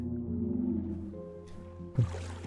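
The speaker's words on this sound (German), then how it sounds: "Was zur Hölle ist das? Das ist ein Wal." A whale calling in the survival video game Raft, a low moaning tone that wavers over a few seconds, with water splashing near the end.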